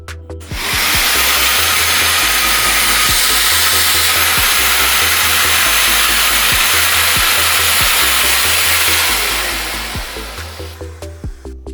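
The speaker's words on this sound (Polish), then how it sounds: "odpalamy odkurzacz i wiercimy." Power drill boring into a workpiece with a dust extraction vacuum hose attached, the extractor roaring steadily and loud throughout while the drill works beneath it, then the noise winding down near the end.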